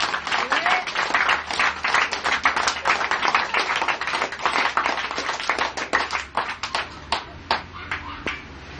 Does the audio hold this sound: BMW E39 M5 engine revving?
no